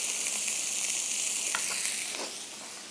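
A homemade burger patty sizzles in a pan, a steady bright frying hiss throughout with a few soft scrapes and clicks as it is turned, easing slightly quieter near the end.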